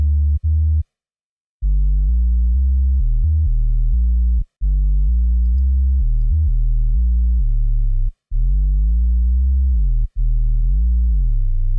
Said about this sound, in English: but I want to add some glide to this as well